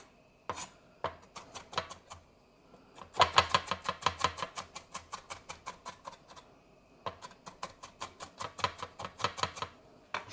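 A knife chopping food into bite-sized pieces on a board, making close, crisp, rapid rhythmic chops in two long bursts after a few slower cuts.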